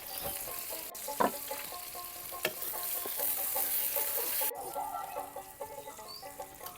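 Chopped onion and green chili fry in a little oil in a wok, giving a soft, continuous sizzle with a few sharp utensil clicks and scrapes, fairly quiet and without talk.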